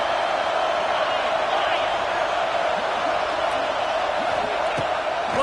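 A large stadium crowd at an LSU football game roars in a steady, dense wash of cheering that holds at full volume throughout, with scattered whoops rising above it.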